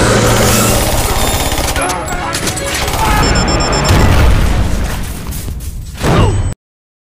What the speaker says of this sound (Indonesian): ia sempat meledakkan granat yang membuat Steve terpental